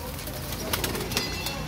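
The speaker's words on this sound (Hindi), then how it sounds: "पहली कबूतरी आ गई" A pigeon coos in soft, low repeated calls amid the bustle of a pigeon-flying game loft, the cooing close and moderately loud over a busy background.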